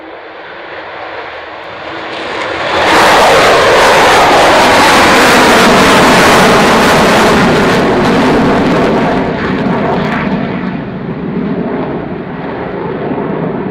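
A fixed-wing display aircraft takes off for an air show in an 18-knot wind, its engine roar swelling loud and steady for several seconds before slowly easing as it climbs away.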